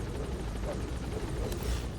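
A helicopter in a video game gives off a steady, loud rotor drone with low thumping and whining engine tone, continuous throughout and fairly close.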